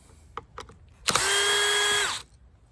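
A power drill backs out Phillips screws, a few short clicks first and then one steady, high motor whine of about a second that winds down at the end. It is close and clear, with no speech.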